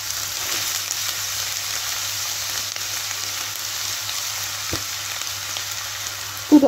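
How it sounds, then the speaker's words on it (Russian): Chopped onion sizzles in vegetable oil in a frying pan over low heat, a soft steady crackle with faint scattered pops, followed by a couple of louder clatters at the end. "Нарезанный лук отправляю в сковороду."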